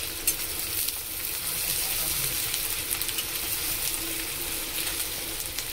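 Chopped onion fries in oil in a pan, a continuous close sizzle holding steady with a few faint scrapes of stirring.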